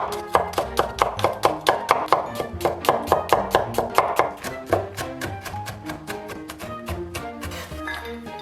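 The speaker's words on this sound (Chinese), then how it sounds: "然后咱们再切点蒜末" Garlic minced with a kitchen knife on a board: rapid, evenly spaced chops, crisp and close, running continuously and softening slightly toward the end.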